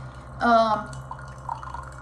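Water trickles and drips from a Ninja CFP301 DualBrew coffee maker into a cup, a faint, brief dispensing sound heard close up with a quiet voice-like tone at the start.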